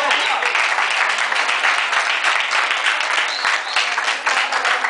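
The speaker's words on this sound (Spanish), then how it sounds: "Amén, un aplauso." A congregation breaks into lively, continuous applause, many hands clapping at close range with a few voices mixed into the clatter.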